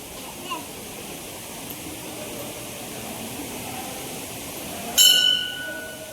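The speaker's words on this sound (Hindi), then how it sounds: "ये झरना है तो झरना का दृश्य ये है।" A waterfall near a temple sends out a constant soft rushing wash at moderate distance, broken about two-thirds through by a bright metallic clink.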